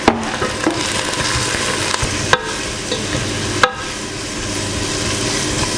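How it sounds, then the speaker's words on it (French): Onions and spices fry steadily in a pan with a constant loud sizzle, broken by a few sharp clinks of a utensil against the pan. "légèrement rissoler les oignons avec les épices pendant à peu près 5 minutes"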